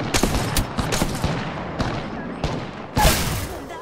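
Rapid enemy gunfire in a PS4 shooter game crackles in irregular bursts of sharp shots, loud and close, with one heavier blast near the end.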